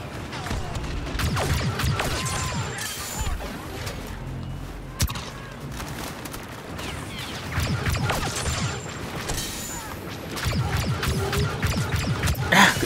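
Blaster fire in the Star Wars Battlefront 2 video game, heard as a dense, steady clatter of rapid shots and impacts within busy battle noise that rises again near the end.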